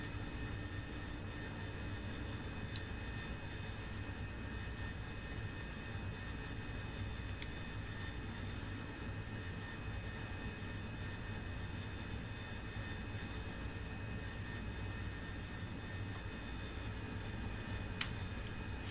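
An AV-8B Harrier jet in the DCS flight game roars steadily after takeoff as its landing gear retracts, a constant engine drone with a few faint sharp clicks.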